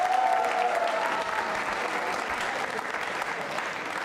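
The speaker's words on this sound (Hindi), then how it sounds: "आप तालियां जोरों से बजाइए इस बच्चे के लिए, जोरदार तालियां" Loud, dense applause from an audience at a quiz show, sustained clapping throughout with a faint voice briefly over the start.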